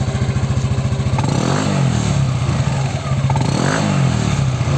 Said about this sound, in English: Okay, so we're gonna rev it right now.